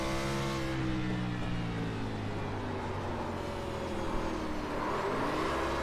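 Race car engine in a racing video game at North Wilkesboro Speedway, revving hard after a spin: a loud, steady harmonic drone that climbs in pitch toward the end, with no talk over it.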